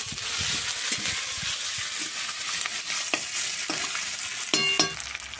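Bay leaf, black cumin, onion and green chili sizzle in hot oil, a dense, continuous fry with scattered pops and the scrape of stirring. No voices.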